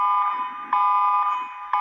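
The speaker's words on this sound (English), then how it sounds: "It actually sounds really like how a tsunami alarm would be." Emergency alert system alarm tone: a loud, steady electronic tone with sharp pulses repeating about every half second, holding strong throughout with no voices over it.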